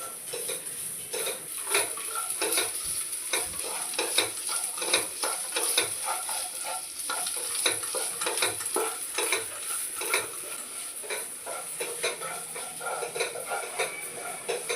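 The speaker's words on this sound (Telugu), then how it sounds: "ఒక 5 నిమిషాలు వేగితే చాలండి కొబ్బరి" Grated coconut fries in a pan with a continuous soft sizzle while a utensil stirs and scrapes against the metal in repeated, uneven strokes, close and steady throughout with no talk.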